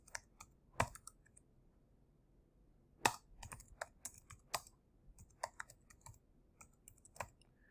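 Fingers typing a command on a computer keyboard while installing software on Ubuntu Linux 20.04, giving sparse, crisp key clicks in irregular bursts with short pauses, close and fairly quiet.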